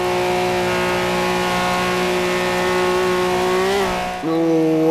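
Ferrari racing in Forza Horizon 2, its engine holding a loud steady high whine before a quick shift drop and a climb back up.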